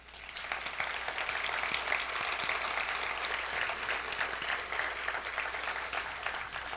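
A school-district audience applauds during a superintendent's speech, a dense, steady wash of many hands clapping at moderate distance, continuing evenly throughout without a break.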